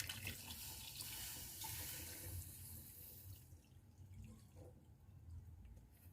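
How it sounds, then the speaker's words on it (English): Water running from a tap, a steady splashing stream that softens partway through as the flow changes, filling a pot of peeled boiled eggs. "Let me add more water"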